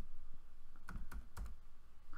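Quiet, close typing on a computer keyboard: a few distinct key clicks in an irregular burst, with no voices.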